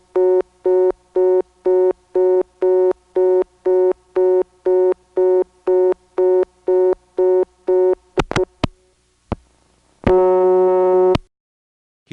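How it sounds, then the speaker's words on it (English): A telephone reorder buzz pulses in a long steady series of short bursts on a phone line in the Commerce, Georgia area, a faint honeybee-like hum of line noise underneath, followed by a few clicks and one longer sustained tone. "what you're hearing between the reorder buzzes, that thing that sounds like a bunch of honeybees in the background, that is really there"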